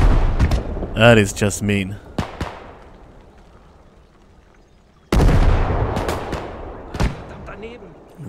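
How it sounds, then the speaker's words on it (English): Mortar fire in the World War II video game Gates of Hell: Ostfront lands as heavy booms with long rumbling decays, one early burst and another sharp blast midway, while someone talks over the first. "Oh, it's a mortar. Oh, they're shooting at Eric."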